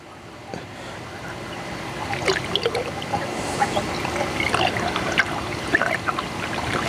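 Motor oil glugs and trickles from a 5-quart container through a funnel into the engine of a Terrain during an oil change, a steady close pour with small splashes and drips.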